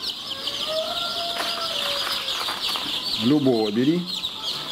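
Young chicks raised on factory compound feed peep in a steady high chorus close by, with a voice speaking briefly under it and a short, louder burst of cheeping toward the end.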